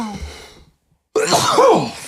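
A single sharp sneeze bursts out close and loud after a brief moment of near silence, with a voice fading out just before it.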